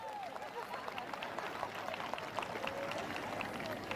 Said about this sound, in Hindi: जोरदार ताली बजाकर।